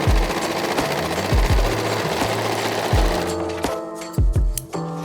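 An overlocker runs along a fabric edge, a fast mechanical whirring stitch with a low thudding pulse, stopping and restarting in short bursts toward the end.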